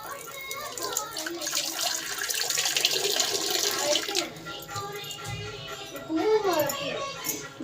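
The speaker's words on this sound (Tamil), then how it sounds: "உருளைக்கு தண்ணி வச்சுக்கிறேன்." Tap water runs steadily into a pot set up for a home puja, a continuous splashing rush that fades after about four seconds, with a voice talking over and after it.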